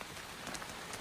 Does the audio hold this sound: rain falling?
yes